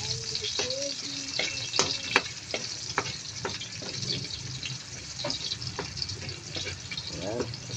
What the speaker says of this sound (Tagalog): Tapos, lagyan natin ng sibuyas. Hintayin natin yung mag-extra brown konti.